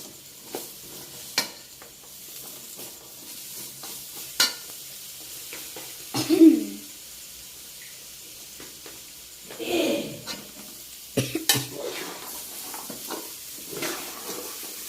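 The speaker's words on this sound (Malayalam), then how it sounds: "നമുക്ക് നന്നായിട്ട് ഇളക്കി കൊടുക്കണം." Mango pickle is stirred in a hot pan with a spoon, giving scattered scraping strokes and soft sizzling, fairly close and quiet, with a few louder bumps of the utensil against the pan.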